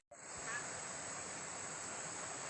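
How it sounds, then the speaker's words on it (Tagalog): A river running through the middle of a forest in Bohol, Philippines, gives off a steady, even rush of flowing water after a brief silent start, with a thin high whine over it and no speech. "Ayan, ito po yung ilog. Ang ganda po, nasa gitna ng gubat."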